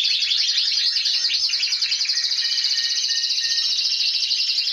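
Five young birds in a nest inside an aviary chirp constantly. Their close, high-pitched, overlapping begging calls run without pause.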